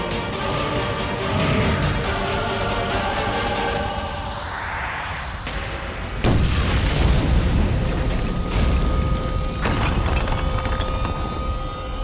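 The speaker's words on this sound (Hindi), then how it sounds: "तो मेरा धमाका देख।" A magical blast effect in a fantasy TV battle scene: a rising whoosh sweeps upward, then a loud, sudden boom breaks out and rumbles on through the rest of the clip.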